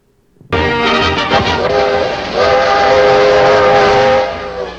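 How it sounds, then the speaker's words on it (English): A steam train whistle from an old newsreel of the Friendship Train crossing the Utah salt flats and trestles, starting abruptly and sounding long, loud and sustained over the rumble of the rolling train. "the Friendship Train as it rolls across the salt flats of Utah and roars over the endless trestles"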